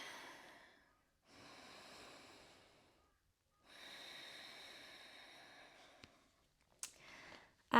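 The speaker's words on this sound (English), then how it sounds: "Practice Ujjayi breath." Ujjayi yoga breathing in a full-body beginner flow, several long, slow, oceanic breaths with a soft throaty hiss, close and fairly quiet, separated by short pauses, followed by a few small sharp bumps at the end.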